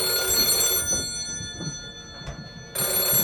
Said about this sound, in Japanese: 電話ですね。